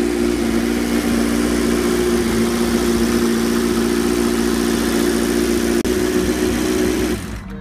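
A Ferrari racing car's V8 engine from the 1964–65 racing seasons runs at a steady idle, a loud continuous droning rumble close by, holding even for several seconds before cutting off abruptly at the end.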